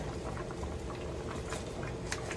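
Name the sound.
chopped cabbage added to a boiling pot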